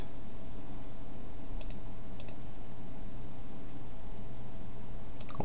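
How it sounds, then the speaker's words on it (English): Two quick double clicks and a single click from a computer mouse, sharp and close, spaced over a low steady background hum. "let's click on the link"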